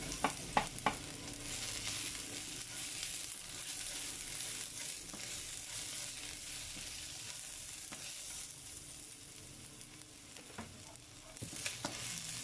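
Chopped garlic stir-fries in a pan with white onion, a soft steady sizzle under occasional clinks and scrapes of a spatula, fairly quiet and close with no talking.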